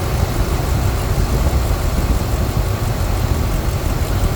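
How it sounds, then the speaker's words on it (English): A Ford 5.4 liter 2V engine idles steadily after repairs, a close, continuous low rumble with even vibration and no voices throughout. "You can hear the engine running here."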